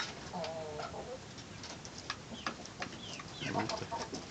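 A broody hen caged with chicks gives soft, faint clucks mixed with thin chirps, scattered and quiet against a low, hissy indoor background.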